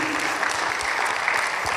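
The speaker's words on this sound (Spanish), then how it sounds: "Dale un fuerte aplauso a nuestro Dios." Dense church congregation applause, steady and loud, with many hands clapping at once for the whole stretch.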